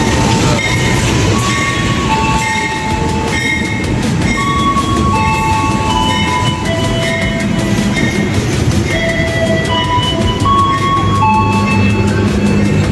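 Loud, close rumble and rolling clatter of the Kertanegara long-distance passenger train pulling into a station, with screeching wheel squeals layered over the steady noise throughout.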